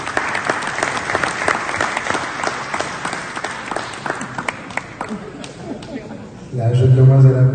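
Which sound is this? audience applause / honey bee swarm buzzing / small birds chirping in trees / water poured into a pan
audience applause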